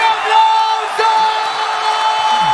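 Crowd at a Luna Park rap battle cheering and whooping, a loud roar of mixed voices with a sustained tonal whistle or horn cutting through.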